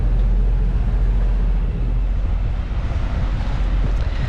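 Steady, heavy wind buffets the microphone aboard a sailboat off the coast of Brazil, a constant loud roar with water rushing beneath, no speech.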